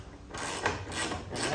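A ratchet undoing 13mm bolts on a VK Commodore front strut gives a series of close, dry clicking and ratcheting bursts in short pulses, with no talk.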